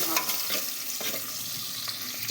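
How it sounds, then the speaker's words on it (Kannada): Onions frying in hot oil while being stirred, a steady close sizzle with scraping stir strokes coming through every so often, no talking. "ಎಣ್ಣೆ ಕಾದ ನಂತರ ಐತಲ್ಲ ಫ್ರೆಂಡ್ಸ್ ಈರುಳ್ಳಿ ಹಾಕ್ಬೇಕು ನೋಡಿ"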